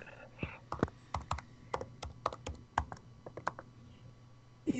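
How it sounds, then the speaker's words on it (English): Quick bursts of computer keyboard typing, sharp clicks clustered in irregular runs, close and fairly quiet over a low steady hum. "He's typing."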